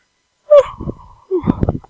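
A person's yawn: two drawn-out breathy, voiced exhalations, each opening with a rising vocal tone and trailing off, close and fairly loud with a short pause between them.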